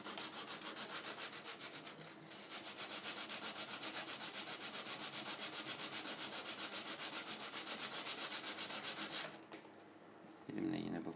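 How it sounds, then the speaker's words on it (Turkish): Sandpaper rubs steadily over a wooden model airplane wing, shaping its angled surfaces in quick, even back-and-forth strokes. It is close and fairly quiet, with a brief pause and a soft knock near the end. "daha çok rüzgar kanallarını yani eğimlerini zımpara yardımıyla vereceğim"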